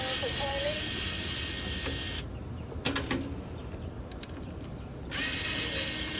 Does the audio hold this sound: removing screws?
yes